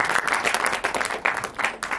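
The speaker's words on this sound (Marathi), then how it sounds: "सो सेजलला जरा प्लीज टाळ्या देऊ" An audience at a Marathi film title-launch event applauds for a woman named Sejal, a sustained and fairly close wave of many hands with uneven peaks, and no talking over it.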